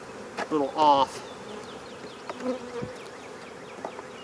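Honeybees drone in a low, steady buzz during a springtime hive inspection, close and continuous, while a few brief words and clinks of frames being handled break through.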